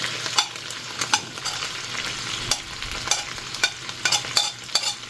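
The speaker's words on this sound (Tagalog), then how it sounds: "Tapos hahalu-haluin na natin." Garlic, onion and tomato frying in a pan, stirred with repeated scraping and clacking strokes over a steady close sizzle.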